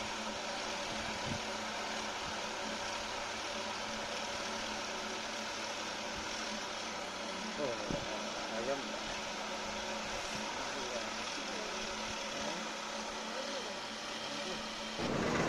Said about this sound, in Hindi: ये स्प्रे चालू है